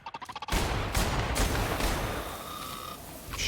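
Gunfire in a video game: a burst of rapid shots opens, then a sustained loud volley of blasts and cracks follows, dense and continuous with scattered sharp reports.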